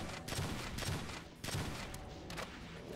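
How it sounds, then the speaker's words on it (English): Energy cannon fire in the Doom video game, a series of loud synthetic blasts at roughly half-second to one-second intervals, up close over a steady game background with no talk. "I'm just gonna use the energy cannon."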